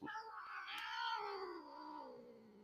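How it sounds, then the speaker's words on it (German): An agitated cat lets out one long, drawn-out caterwaul that rises and slowly falls, loud and close, with no talking over it. "Katze ist auf 180."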